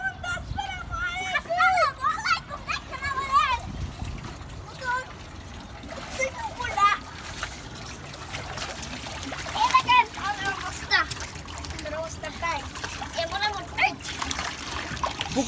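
Children splashing water in a makeshift home pool: intermittent splashes and trickling water under steady chatter and children's voices.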